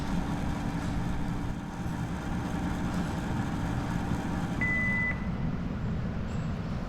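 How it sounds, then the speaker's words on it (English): A single short electronic beep sounds once as a lab machine signals a finished reaction, against a steady loud mechanical hum that runs throughout. "the machine will make a beep sound again"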